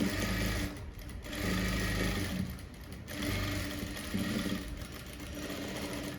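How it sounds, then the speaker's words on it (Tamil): Sewing machine stitching lace onto a blouse back neck, running in steady loud bursts of whirring stitches with short pauses between runs, close up. "இப்போ தைச்சி எடுத்தாச்சு."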